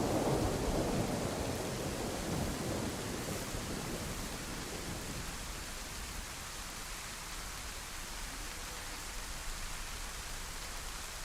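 Steady rain falling in the DayZ survival video game, a dense, even hiss that stays constant and moderately loud across the whole stretch, heavier low rumble at the start, with no voices.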